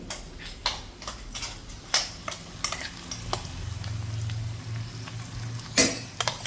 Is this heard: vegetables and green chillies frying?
yes